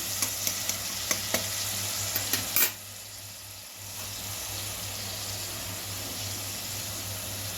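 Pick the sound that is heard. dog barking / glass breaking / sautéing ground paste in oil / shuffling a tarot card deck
sautéing ground paste in oil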